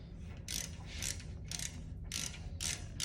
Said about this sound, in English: Get my ratchet. Put my ratchet in the tool,